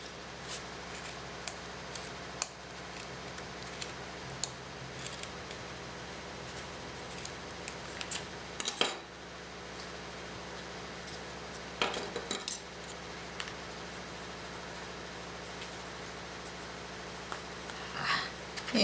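Scissors snipping through wool, soft intermittent metallic clicks and cuts, quiet and close, with a few louder clusters and a person talking in between.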